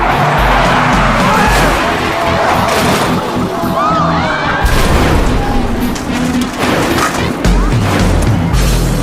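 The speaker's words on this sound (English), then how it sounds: "Two cars veer off the track and one of them goes careening out of control." Stock cars racing at about 140 miles per hour veer off the track, with roaring engines, skidding and crashing impacts amid crowd noise, loud and chaotic throughout.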